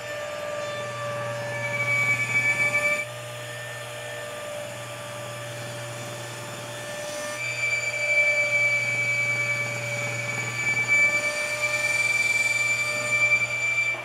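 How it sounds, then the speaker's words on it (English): Table saw shaping a wooden pattern block, a steady whining motor hum with a bright tonal ring that rises in two longer cutting passes, continuous and close, with no talking. "now to take this gross looking pattern block over to the table saw for some shaping"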